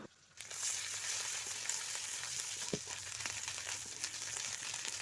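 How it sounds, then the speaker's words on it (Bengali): Ginger sizzling and frying in hot oil with already-fried garlic and onion, a steady close crackle that starts after a brief quiet moment and runs on with faint stirring. "তো আদাটা এবার আমি তেলে নাড়াচাড়া করে"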